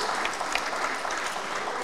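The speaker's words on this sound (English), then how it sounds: "Please, can you clap for them?" An indoor audience at a Nigerian orientation event claps steadily, a dense, even patter of hands filling the room without pause.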